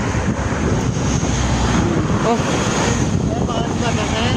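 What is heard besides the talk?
wind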